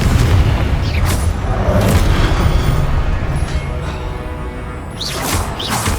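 Confringo blasting spell explosions in Hogwarts Legacy: heavy, booming blasts with whooshing casts, layered over a dense, steady roar of combat.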